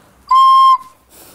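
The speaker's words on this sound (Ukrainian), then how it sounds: "Це ось іграшки, свищики." A single bright, steady whistle tone of about half a second from a traditional Ukrainian ceramic clay whistle toy, loud and close, followed by faint background noise.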